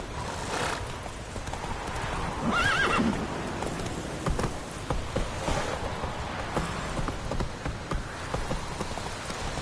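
Roach, a horse from The Witcher 3, gives a loud whinny amid steady clip-clop hooves at a trot, with a soft patter of rain throughout the clip.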